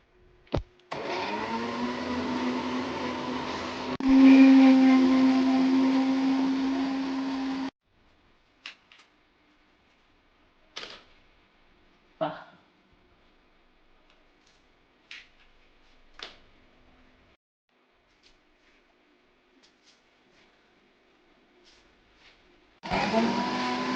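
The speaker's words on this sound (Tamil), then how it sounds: "ஸோ நெக்ஸ்ட்டு நம்ம ப்ளேஸ் பண்ணிவிட்டு ஜூஸை வந்து அரைக்க போகிறோம்" A mixer grinder runs for about seven seconds grinding juice, a loud steady motor whine that ends abruptly, followed by scattered clicks and handling knocks before the motor starts again at the end.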